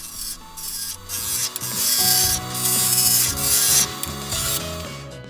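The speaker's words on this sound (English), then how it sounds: "Switch over to the parting tool, take it down a little further, and continue on establishing the shape." Parting tool cutting into wood spinning on a lathe, a steady loud rasping scrape with shifting tonal hum from the machine, rising and easing in several long passes without pauses.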